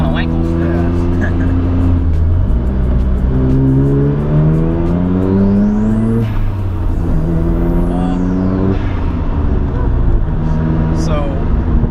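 A 1993 Mazda RX-7 (FD) Wankel rotary engine revs hard and continuously, pitch climbing and falling in repeated surges, loud and close, with a voice talking over it.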